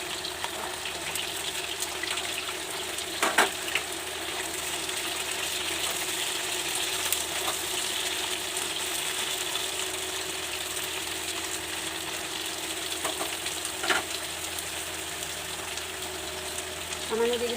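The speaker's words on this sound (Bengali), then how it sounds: "তেল গরম হয়ে গেছে, আমি আলুটার কুমড়োটা একটু ভেজে নিচ্ছি।" Potato and pumpkin pieces fry in hot oil, a steady broadband sizzle running throughout with a few sharper crackles and pops.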